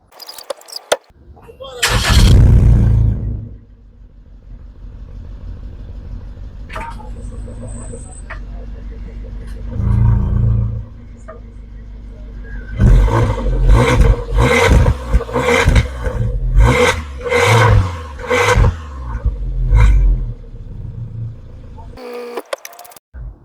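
Suzuki Jimny engine starting with a loud roar, then settling to idle before several sharp revs in quick succession, recorded close by with no talk.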